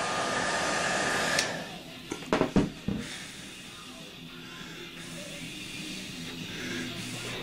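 A heat gun blows over covering film on an RC plane, giving a steady close airflow roar that cuts off partway through, followed by a few brief handling knocks and then quiet.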